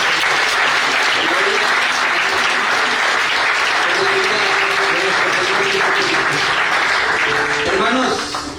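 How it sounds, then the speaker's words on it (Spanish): A church congregation at a men's service claps loudly and continuously for several seconds, a dense crowd wash with faint voices underneath, tapering off at the end. "Yo creo que eso merece un fuerte aplauso."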